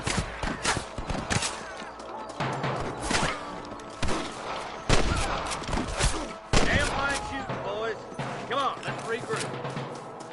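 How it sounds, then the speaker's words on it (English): Gunfire in the Western video game Red Dead Redemption: repeated sharp, loud shots in irregular bursts, some close and booming, mixed with in-game voices and background noise. "I can hear more gunshots."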